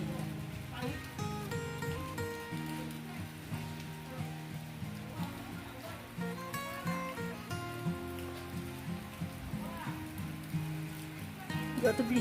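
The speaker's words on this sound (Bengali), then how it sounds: "যত বৃষ্টি হচ্ছে চারদিক থেকে যেন আরো বেশি সবুজ হয়ে যাচ্ছে।" Rain falls steadily in Kolkata, a soft continuous patter on surfaces heard beneath people talking nearby.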